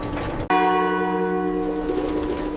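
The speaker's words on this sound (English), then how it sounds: "When the bell rang across the streets" A city clock tower bell strikes once, loud and resonant, its ringing tone hanging and slowly fading over faint outdoor ambience.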